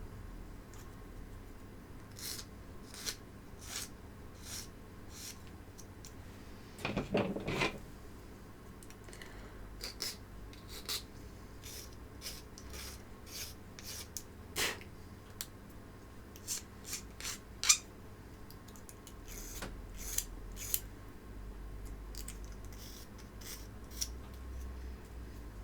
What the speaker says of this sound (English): And now we get to filing down all of the excess.